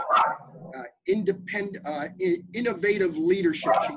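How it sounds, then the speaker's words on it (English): A dog barks repeatedly in the background while a person keeps talking over it. "I apologize for the barking dog."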